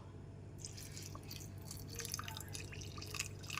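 Water trickles and drips into a bowl of soaked mustard seeds with a little salt, a soft, steady close pour with no talking.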